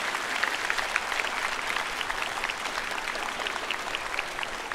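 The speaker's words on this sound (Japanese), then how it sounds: "もう一度盛大な拍手よろしくお願いします。" Sustained applause from a concert audience after a high school wind band's encore, a dense, steady wash of clapping at moderate distance, with no talk over it.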